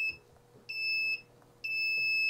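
A small piezo buzzer on an Arduino joystick circuit sounds in bursts, a shrill steady electronic tone switching on and off in two long beeps, close and clear over a quiet room.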